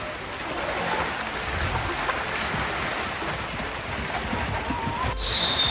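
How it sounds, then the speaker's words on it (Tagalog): Heavy rain pours outdoors during a typhoon at a free-range chicken farm. It makes a steady, dense hiss close by, with a sudden louder gust near the end. "At malakas talaga, lumalakas na yung ulan."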